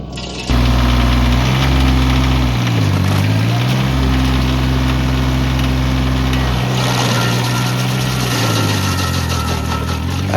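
A tractor-driven stump grinder's engine drones loud and close, its pitch sagging twice as the load bogs it down, then recovering.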